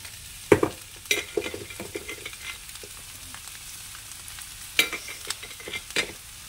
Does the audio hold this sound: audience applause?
no